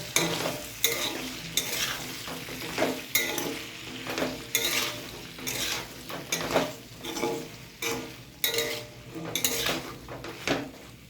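Ridge gourd and potato, seasoned with salt and turmeric, are stirred in a frying pan: repeated scraping strokes of a spatula against the pan every second or so, over a steady close sizzle, with no voices.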